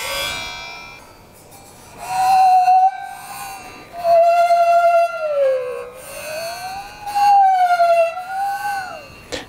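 A two-handed saw bowed like a musical saw sings in sustained, wavering tones that glide up and down in pitch, with repeated phrases separated by short breaks.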